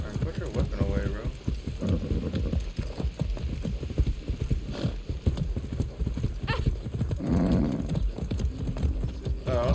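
A horse gallops in the video game Far Cry 6, its hooves beating a fast, steady clip-clop close by for the whole stretch, with a brief whinny. Someone talks over the hoofbeats.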